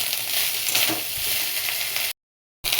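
Continuous crackling sizzle of rice frying in a pan, close and steady, cut off abruptly by a brief silence near the end.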